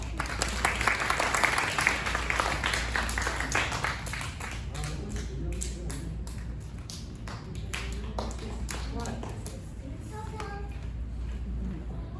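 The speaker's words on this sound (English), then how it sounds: "A big round of applause." A crowd at a puppet show applauds, loud at first and thinning into scattered claps, with voices speaking over it.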